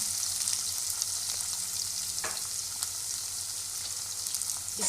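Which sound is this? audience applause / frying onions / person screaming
frying onions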